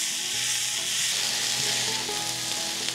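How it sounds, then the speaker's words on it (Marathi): Chopped onions fry steadily in a pan for chicken curry, giving a dense, continuous sizzle with faint crackles and no voices. "आता हा कांदा आहे ना छान भाजून घ्यायचा, मस्त असा तांबूस रंग येईस्तोवर."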